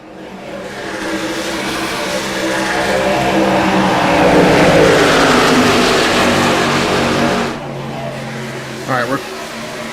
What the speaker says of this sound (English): if you want to hear what it sounds like inside these virtual trucks, most of these drivers do have their engines cranked as loud as possible